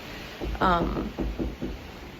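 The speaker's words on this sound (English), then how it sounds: "Somebody was knocking somewhere, and I don't know if it was in my room or a different room" Several knocks from somewhere inside a building, hard to place between rooms, sound as a short, irregular series of muffled raps at moderate distance, with no talk over them.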